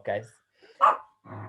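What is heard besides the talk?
dog barking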